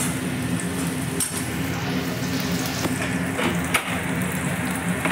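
Onions frying in hot oil for ragda tempering, giving a steady close crackling sizzle like rain, with an occasional light clink of a utensil against the pan.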